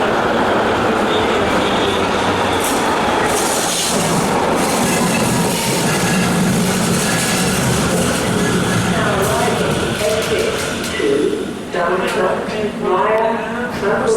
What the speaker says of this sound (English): we'll catch an S-Bahn train to take us back round to